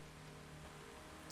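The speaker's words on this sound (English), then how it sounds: "And now it's raining." Steady rain in the racing video game The Crew 2, a constant hissing wash of falling drops with a low hum beneath, even and unbroken throughout.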